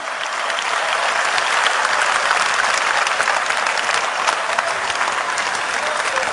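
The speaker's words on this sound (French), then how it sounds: "Et on peut encore applaudir Florence, Carole et Jean." A large audience at the WorldSkills 2023 opening ceremony in Lyon applauds in a dense, even wash of clapping that holds steady throughout.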